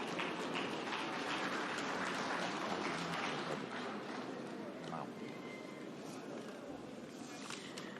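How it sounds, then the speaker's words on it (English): An audience at a political summit in Abuja claps in a dense, sustained burst of applause that fills the room and slowly tapers over several seconds, with voices mixed in. "This is the time when we give the ruling party a resounding round of applause."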